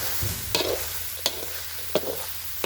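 Lemongrass dry-roasting in a pan over an open fire, a faint hiss with sharp, spaced scrapes and taps from stirring, close by, four or so in under three seconds, no voices.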